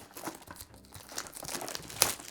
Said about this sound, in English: If I can get the paper off.